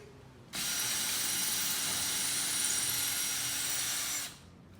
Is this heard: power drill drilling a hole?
yes